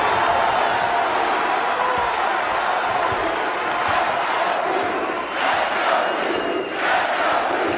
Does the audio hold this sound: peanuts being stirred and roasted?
no